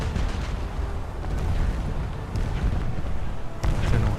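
Naval gun shells fire in a boat combat video game as a continuous roaring wash of dense low rumble with a heavier boom near the end, no speech over it.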